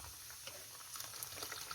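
Soup with Knorr chicken cubes comes to a boil in a pot, giving a soft, steady bubbling and light popping patter close by, quiet and unbroken by voices.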